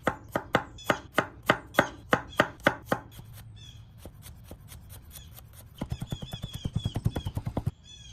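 Ginger and garlic finely minced with a knife on a board, first in a run of loud, evenly spaced chops, then a quieter pause, then a faster burst of rapid close taps.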